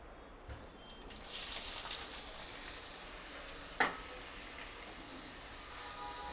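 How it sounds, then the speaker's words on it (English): Onions drop into hot ghee and break into a bright, steady hiss of frying, with one sharp clack of a utensil partway through and no talking. "Guys, time to add onion."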